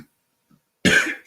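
A single sharp cough bursts out loud and close after near silence, trailing off over about half a second.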